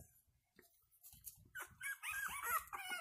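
Small high-pitched whimpers and squeaks from nine newborn Boston terrier x French bulldog puppies just after a C-section, several overlapping cries, close by, with soft low thumps and rustling underneath.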